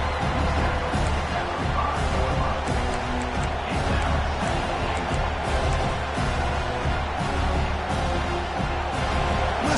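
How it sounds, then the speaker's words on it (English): Stadium crowd in a college football video game against Oregon, a constant dense roar of many voices throughout, steady and loud with faint commentary underneath. "Listen to the crowd energy here in the early going."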